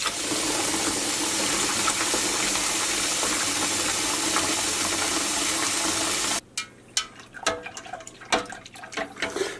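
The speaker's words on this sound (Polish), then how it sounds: "przenoszę do zlewu ekstrakt jak najszybciej schłodzić zimną wodą" Cold tap water runs into a kitchen sink to chill a pot of beer yeast starter wort, a steady loud rush for about six seconds that then cuts off, followed by scattered clinks and knocks.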